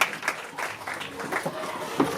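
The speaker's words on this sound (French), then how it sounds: "Merci beaucoup, on applaudit pour eux" Guests at a customary wedding in Bacongo applaud the couple, a patter of scattered hand claps from a moderately sized gathering, steady but not especially loud over a short stretch.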